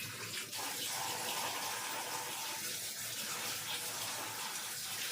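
Flattened rice (poha) being rinsed in water for avalakki chitranna, a steady splashing, sloshing wash of grains with running water, close and continuous throughout without talk.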